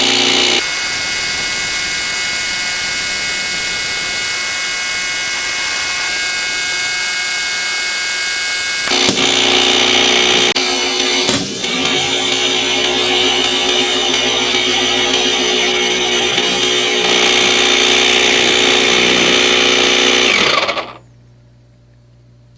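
An electric pump powered by a portable power station runs loudly and steadily for about twenty seconds while inflating a balloon, its pitch shifting midway, then cuts off abruptly into near silence.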